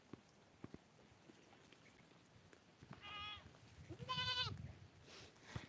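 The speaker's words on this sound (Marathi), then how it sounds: "आपली बकर इथंच चरत आहेत रानामध्ये" Goats grazing in a soybean field bleat twice from a moderate distance, one shorter call followed by a longer wavering one, over steady outdoor background noise with occasional light knocks.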